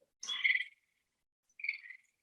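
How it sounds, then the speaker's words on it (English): Two rasping tree frog calls on a warm May night in mid-Michigan, each a short trilled burst, the first louder and the second slightly fainter, with silence between. "You will be blown away by the tree frog calls."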